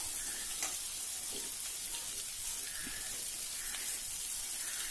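Ivy gourd sautéing in a pan, a constant soft hiss of frying with occasional faint scrapes of stirring, close but quiet and without speech.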